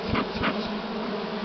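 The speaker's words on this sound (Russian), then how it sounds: "Пчелы полным ходом работать пошли" Honey bees buzz at an opened hive in early April, a dense, close, continuous drone with a few individual bees passing nearer, and no voices.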